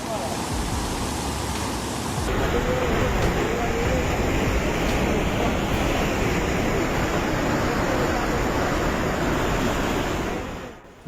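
Muddy floodwater of the swollen Teesta River in India churns and surges as a constant, loud broadband roar of rushing waves, steady throughout before fading at the very end.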